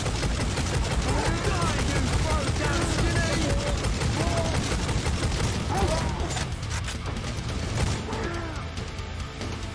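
Heavy weapons in the video game Necromunda: Hired Gun unleash a loud, continuous, rapid fusillade of gunfire lasting several seconds, with someone talking over the shooting.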